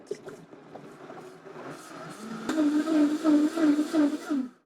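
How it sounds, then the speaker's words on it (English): A countertop blender purees garlic and silken tofu: a softer whir at first, then a loud, steady motor roar with a wavering whine for the last couple of seconds before it cuts off. "Put the lid on and blend."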